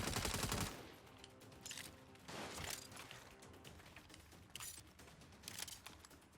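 Video game gunfire in Saints Row comes as several bursts of rapid shots, loud at the start and then repeating in quieter clusters, with mechanical clicks between them.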